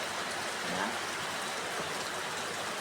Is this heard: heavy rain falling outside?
yes